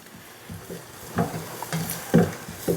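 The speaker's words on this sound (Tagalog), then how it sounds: "igisa lang natin na maigi para lumabas yung aroma ng bawang" Garlic sautéing in a pan gives a soft sizzle, broken by repeated stirring scrapes and clinks at irregular intervals, close and moderately loud.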